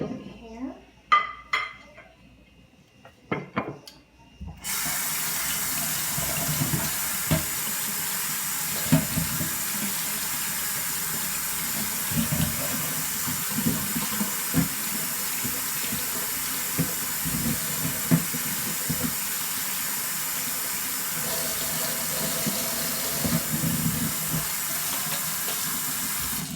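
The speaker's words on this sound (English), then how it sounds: "We're also going to wash our broccoli." Tap water runs steadily into a kitchen sink as broccoli and other vegetables are rinsed, a continuous close splashing hiss with occasional knocks, following a few seconds of quieter handling sounds at the start.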